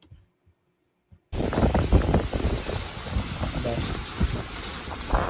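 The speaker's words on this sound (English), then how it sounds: "As you can see, very windy in this clip." Strong storm wind roars into an outdoor microphone during a severe weather chase, a sudden loud, rumbling buffeting that starts after a second of near silence and continues with gusty surges.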